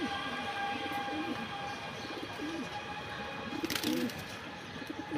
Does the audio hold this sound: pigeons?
yes